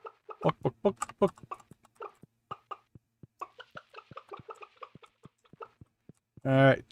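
Chickens in the farming video game Stardew Valley give a short burst of clucking at the end, after a stretch of a person's voice breaking into quick clucking sounds that imitate a hen.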